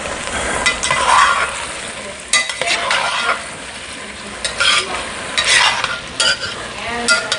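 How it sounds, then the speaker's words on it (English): Vegetables cooking in butter for homemade chicken soup, a loud close sizzle with bursts of stirring and scraping in the pot, coming and going in waves. "So just cooking this up in some butter."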